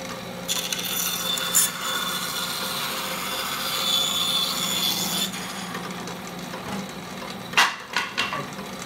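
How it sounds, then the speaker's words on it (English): Bandsaw cutting a small section from a piece of wood for a three-piece guitar neck, a steady raspy rubbing hiss running for several seconds, then a few short louder scrapes near the end. "And then I'm gonna cut this out with the bandsaw, just this little section."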